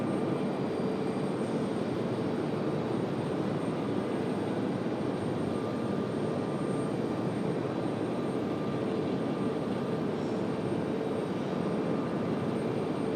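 An Aer Lingus jet airliner on the move at Raleigh-Durham airport produces a continuous, even engine rumble and hiss, fairly loud and unchanging, with a thin tonal whine above.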